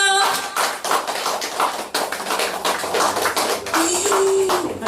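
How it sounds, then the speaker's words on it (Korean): Audience applause during a necklace presentation at an award ceremony for a newly appointed local singer, steady dense clapping throughout with a whistle-like tone near the end. "목걸이 걸을 때 박수 주세요"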